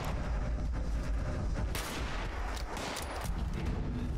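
Rapid gunfire while killing a super mutant in Fallout 76, dense loud shots rolling continuously with heavy low-end booms and no talking.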